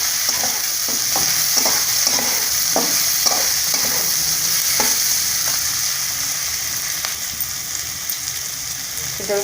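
Onions fry in a pan with dried red chillies and curry leaves for idli upma, giving a steady close sizzle broken by repeated scraping stirs of a spoon, with no talking.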